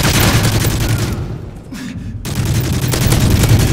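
Dense, loud bursts of gunfire fill a match of Call of Duty Modern Warfare 3, briefly thinning in the middle before the sustained shooting resumes.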